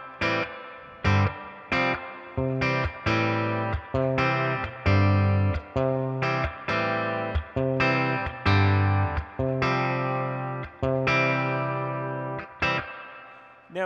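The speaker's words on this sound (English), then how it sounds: "So we'll engage the reverb. Actually, we'll turn it up a little bit for you and let you listen." An electric guitar played through a Milkman Sound Half Pint 5-watt amplifier with its reverb engaged, strummed chords struck one after another in a steady rhythm, each ringing out with a reverb tail, loud and close with no talking.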